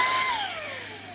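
A Ryobi P724B stick vacuum whirs at high pitch right after starting, a loud close motor whine that slowly eases down in pitch, with no voices.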